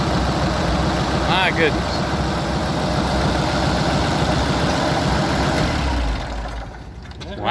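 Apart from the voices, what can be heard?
antique tractor engine running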